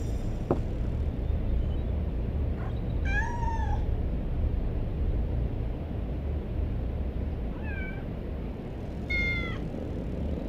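A cat meows in the Harry Potter and the Order of the Phoenix video game, a few short rising calls spaced apart over a constant low ambient rumble, with no talking.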